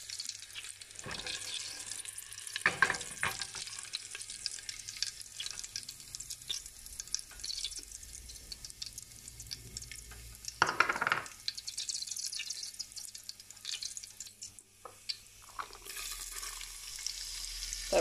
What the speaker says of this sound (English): put your cumin seed and coriander seed into the oil